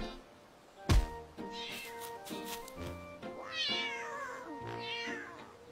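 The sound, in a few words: cat meowing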